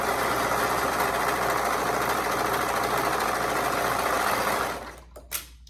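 A sewing machine runs steadily, stitching a hoodie seam at a half-inch allowance with a continuous mechanical hum and vibration. It stops near the end, followed by a couple of short clicks.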